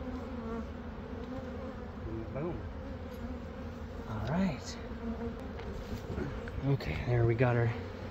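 Honey bees buzzing during a hive rescue, a close, continuous droning hum with individual bees swelling louder as they pass near, and faint talk in the background.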